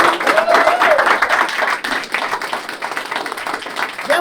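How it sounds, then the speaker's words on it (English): An interview audience applauding a guest with steady, dense clapping from a crowd for several seconds, close and sustained, with voices mixed in. "Give him a round of applause."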